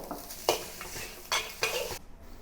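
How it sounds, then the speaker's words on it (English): Salted egg fried rice cooking in a pan over low to medium heat with garlic, a soft sizzle broken by scraping and stirring bursts of a utensil against the pan, fairly quiet and close. "You can start to hear the sizzling sound."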